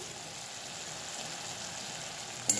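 Spice paste for no-onion, no-garlic rajma frying in oil over medium heat, a steady soft sizzle and crackle running evenly throughout with a brief louder stir near the end.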